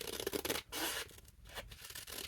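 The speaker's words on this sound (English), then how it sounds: "but I'm just going to use my scissors" Scissors trim a planner hardcover in quiet, close, choppy snips and rasps, with brief pauses between cuts and no talking.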